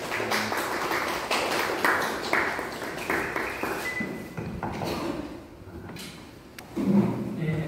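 Audience applause at a Korean public forum workshop on community care, welcoming a board member and pastor to the stage, a steady dense patter of clapping that thins and fades before a louder burst near the end.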